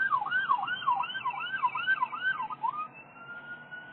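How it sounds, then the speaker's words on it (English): An ambulance siren wails past in a rapid rising-and-falling yelp, fairly close, then fades and flattens as the vehicle moves away. "ambulance is just going by"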